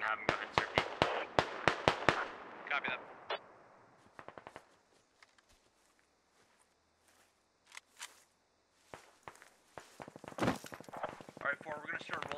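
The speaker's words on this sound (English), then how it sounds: "There's a close contact firefight happening over here in the south" Close-range firefight in the tactical shooter Squad, with bursts of sharp gunshots packed densely at first, then scattered single shots and a lull before another flurry; voices talk over parts of it.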